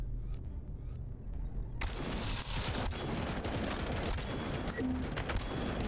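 Gunfire in Robocop: Rogue City, with a few faint muffled shots at first, then a sudden dense barrage of rapid automatic fire that stays loud and continuous, with no talk over it.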